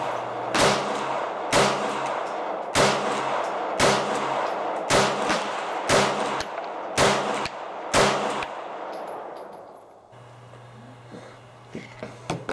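A Boberg XR9-S pistol fired at a shooting range: eight sharp, loud gunshots at a steady pace of roughly one per second, each ringing briefly, followed by quieter range ambience and faint clicks.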